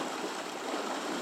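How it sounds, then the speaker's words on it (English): Water rushes steadily out through big marina gates on a British coast, a continuous broadband wash with no talk over it. "there's still water coming out of the marina"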